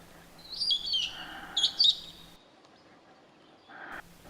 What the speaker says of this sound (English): a group of yellow-fronted parrots came into some pencil cedars very close to my tent